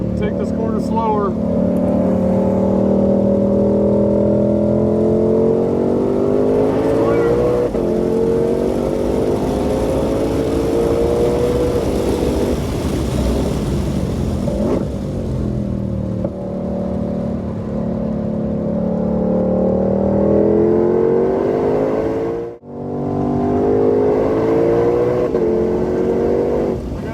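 A 2020 Shelby GT500 drives hard around a race track, its engine droning and rising and falling through corners at close range, with wind noise and a speaking voice over it.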